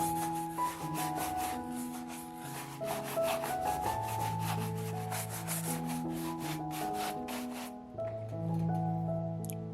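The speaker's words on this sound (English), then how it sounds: "give the shoes a light brushing" Leather wingtip shoes given a light brushing during a shine, a steady run of soft, rhythmic rubbing strokes that stay close under background music throughout.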